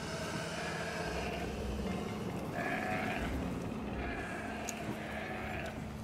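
Goats bleat in the prehistoric game Ancestors: The Humankind Odyssey, several wavering cries over a constant wind-like ambient bed, moderately loud and without talk.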